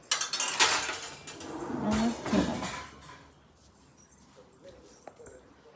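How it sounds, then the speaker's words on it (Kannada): Kitchen pots and vessels being stacked and put away at home, a few metallic clatters and clanks in two brief bursts, then quieter scattered taps, with faint talk in the background. "ಮಮ್ಮಿ ಪಾತ್ರೆ ಜೋಡಿಸ್ತಿದ್ದಾರೆ"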